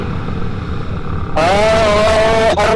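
Small motorcycle struggling to accelerate while riding among big bikes, engine jumping from a low idle rumble to a loud, strained, rising whine that holds steady, close to the rider.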